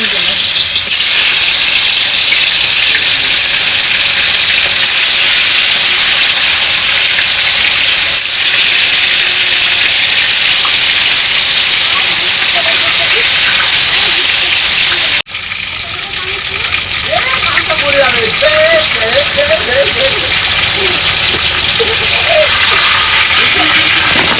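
A large guarjali fish frying in hot oil in a home kitchen, a loud, constant sizzling hiss that cuts briefly and then surges again with crackling spatters.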